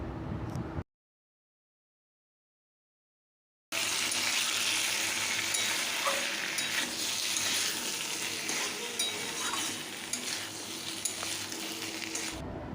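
Steady sizzling of a potato and pointed gourd curry in a pan with faint scraping from stirring, close and continuous after a brief silent gap at the start.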